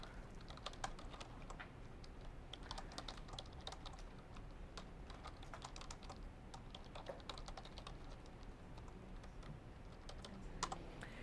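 Typing on a computer keyboard while writing a paper, a quiet, steady patter of soft key clicks with occasional bursts, captured at low level over faint background hiss and no talk.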